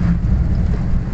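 Steady rain on a ride along a waterlogged road beside a railway line in a village area, a continuous loud, rumbling wash of rainfall and wind noise filling the whole clip with no voices.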